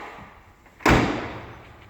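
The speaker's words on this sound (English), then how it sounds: "Okay, so if I close up the tailgate" A Pegasus hardtop canopy tailgate (Avantgarde with security pack) swings shut with a single loud, close slam, a sharp thud followed by a short fading rumble over quiet room tone.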